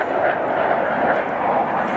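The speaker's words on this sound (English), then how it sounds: "By the sound of the fighter jets, I didn't know if they would clear the trees." Fighter jets roar over a golf course during an LPGA tournament round, a loud, sustained broadband rumble that fills the whole stretch without breaks, with a commentator's voice faintly mixed in.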